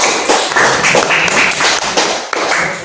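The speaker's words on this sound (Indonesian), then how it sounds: "Tepuk tangan untuk teman" Classroom applause for a student after a presentation in an Indonesian-language lesson, a dense, steady patter of many hands clapping close by for about three seconds without pause.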